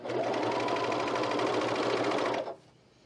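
A sewing machine stitching fabric for a Brattle top runs in a fast, steady whirring hum for about two and a half seconds, close and clear, then stops abruptly.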